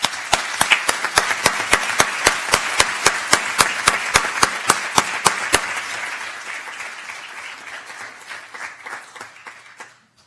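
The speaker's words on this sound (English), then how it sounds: "Let's give him a round of applause." Applause at a county school board meeting honouring a student athlete on a scholarship: a run of sharp, evenly spaced claps that breaks into scattered crowd clapping, which thins out and fades to quiet.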